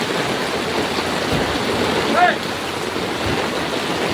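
Floodwater rushes steadily past vehicles, a broad noisy wash like a strong stream, with faint voices in the background and a brief louder splash midway.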